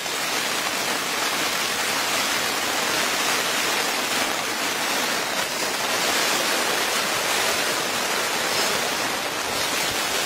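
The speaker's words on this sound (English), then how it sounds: "the little shower's kicked in, so I'm just going to wait it out" A light rain shower falls steadily around a wild camp on the cliffs of the Outer Hebrides, a continuous even hiss of drops that holds at constant moderate loudness for ten seconds, with no voices.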